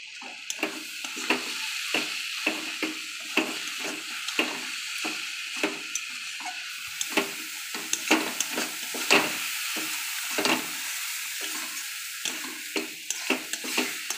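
Ghee goes into vegetarian cabbage jhal cooking in a pan: a soft continuous sizzle under rhythmic, evenly spaced stirring strokes, close and fairly quiet, with no talking.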